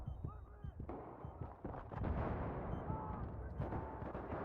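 Explosions and heavy gunfire in the shooter game Battlefield 3 on Xbox One, with several sharp blasts and bursts at low level.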